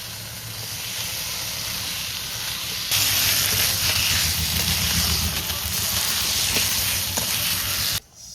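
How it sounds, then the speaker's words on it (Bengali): Water lily stems sautéed in spice paste after the oil has separated give a steady frying sizzle and hiss that grows louder partway through, then cuts off abruptly near the end. "শাপলা মশলা দিয়ে সুন্দর কষে নিয়েছি"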